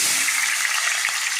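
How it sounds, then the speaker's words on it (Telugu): Paneer pieces frying in hot oil give a bright, steady sizzle, close and continuous, with no voices. "ఇప్పుడు నూనె వేడెక్కాక పన్నీర్ ముక్కలు వేసి చూపిస్తానండి."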